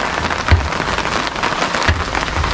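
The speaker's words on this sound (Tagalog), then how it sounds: "lakas ng ulan" Heavy rain pours steadily onto a surface in a rural Masbate setting, a dense continuous hiss with a couple of low thumps, loud and close, with no talking.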